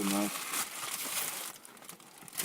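A crinkly plastic package shipped from China is torn and rustled open at close range, a dense burst of crackling and crumpling that settles into softer rustles; no one talks over it.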